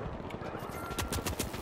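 Rapid turret gunfire in the shooter game The Finals, a dense run of sharp automatic shots that grows louder and more clustered toward the end, with no talk over it.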